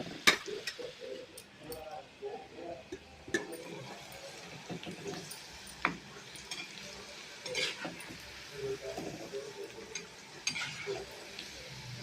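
Tuna fish fingers frying in oil in a home kitchen: a faint, steady sizzle with occasional sharp pops and stirring clinks, recorded quietly at close range.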